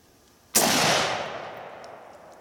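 A single sharp rifle shot from an Armalite SPR Mod1 AR-15, a loud sudden crack outdoors followed by a long rolling echo that fades slowly, with no voices.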